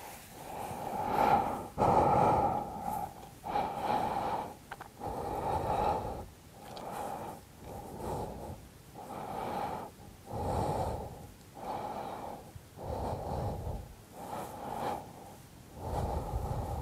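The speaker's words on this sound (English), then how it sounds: "Two more deep belly breaths here." Slow, deep belly breaths during a yoga flow, close and audible, with long inhales and exhales repeating evenly with no talking.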